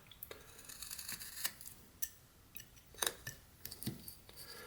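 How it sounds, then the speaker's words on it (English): A knife whittles into a piece of wood, carving out a small chunk while shaping a figure's head: faint, sparse scraping cuts and a few sharp little snaps and clicks scattered through a quiet room, with no talking. "Just cut out a piece of wood there."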